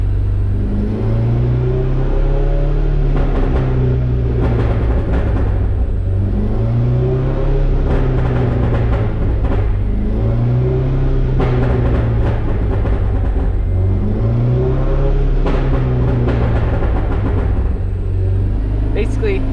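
A Kpro-tuned car engine set up with a crackle tune revs up and falls back repeatedly in a steady cycle, a loud, close droning rumble rising and dropping in pitch several times.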